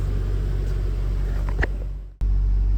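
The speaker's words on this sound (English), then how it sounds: "we're gonna give it a little bit of gas here." A 1999 Nissan Skyline R34 25GTT engine idles with a deep steady rumble, then a brief blip of throttle swells and dips before the low drone returns, close and loud.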